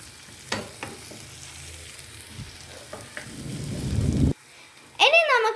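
Hyderabad brinjal curry stirred in a pan over a low simmer, soft scrapes and knocks against a gentle sizzle, swelling into a louder bubbling rush before a short pause and a burst of other noise.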